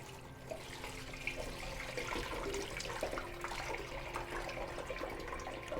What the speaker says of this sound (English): You pour your liquid right here on the side. It drains down into the overflow tank and then the main tank